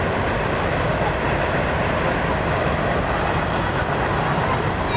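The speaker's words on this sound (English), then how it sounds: "Here's the meadow and a train passing by over there." A loud, steady rumble of a train rolling past close by, dense and continuous with a faint rhythmic clatter of wheels, no voices, heard from a meadow by a river near Vancouver, Washington.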